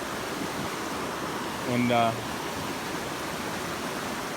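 Steady broadband rush of a waterfall beside a stream fishing spot for brook trout, constant and close throughout, with a brief spoken word partway in.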